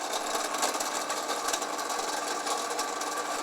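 A Norwalk juicer press squeezes pulp after its lever is turned, a continuous mechanical whirring and buzzing motor sound with faint rattling vibration, steady and close, no voices.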